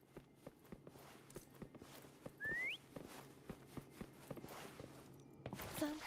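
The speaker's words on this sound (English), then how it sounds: "Try whistling. Like this." A short rising whistle, in the game Wuthering Waves, rings out once in the middle alongside soft repeated footstep taps and faint background game sounds.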